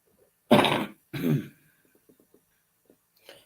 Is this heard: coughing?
yes